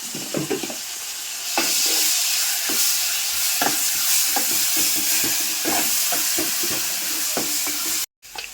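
A spoon stirs chicken curry in a pot over the heat, rhythmic scraping strokes over a steady sizzle, close and fairly loud, with a brief cut near the end.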